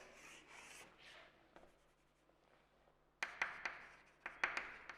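Marker or chalk scraping across a board while a d-block periodic table diagram is drawn, heard as soft scratchy strokes at first, then sharper, louder rhythmic strokes in quick bursts near the end.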